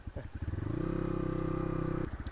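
A motorcycle climbs a steep off-road hill. The engine pulses close and loud, then holds a strained, steady drone as the bike labors upward, dropping back to a lumpy idle-like putter at the end.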